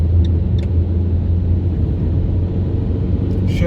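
A Fiat Punto 1.3 Multijet 85 hp diesel accelerates through the gears on the autobahn, with a steady, loud cabin drone of engine and road rumble and a few faint clicks.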